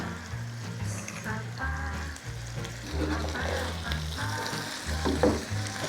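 Boiled, peeled and salted potatoes fry in a pan over fairly high heat for a coconut aloo fry, giving a steady close sizzle with occasional stirring.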